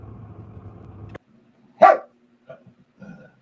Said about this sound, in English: So right when I unmute, he barks.